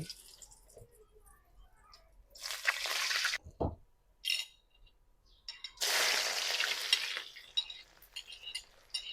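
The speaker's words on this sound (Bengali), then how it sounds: "এখন চারটা শুকনো মরিচ দিলে এরাম।" Four dried red chillies dropped into hot oil in a pan, giving bursts of loud sizzling crackle between quieter gaps, with a few clinks of utensils.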